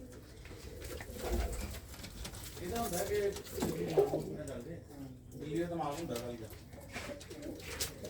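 Soft pigeon coos rise and fall close by while someone talks over them almost throughout.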